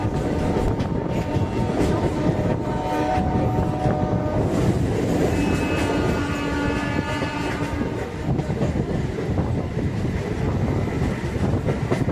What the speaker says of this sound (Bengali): যে ট্রেনটি এখন আপনারা দেখছেন এটি হলো ফলকনুমা এক্সপ্রেস।